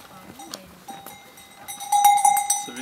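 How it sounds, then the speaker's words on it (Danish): Bells hung on donkeys and horses clank and ring near a campsite tent on the Pic du Canigou, several irregular metallic strikes building into a louder jangle, with a voice speaking faintly. "Nu kommer der æsel også."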